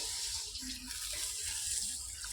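Basmati rice being rinsed by hand in water in a kitchen, a steady close splashing and swishing wash that runs continuously without pause.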